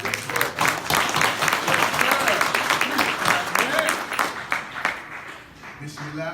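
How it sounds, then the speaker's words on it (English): At a Saviors' Day student ministry class at Muhammad Mosque No. 7, an audience applauds the sister minister. The clapping is dense and sustained, then eases slightly near the end. "Let's give our sister minister a round of applause."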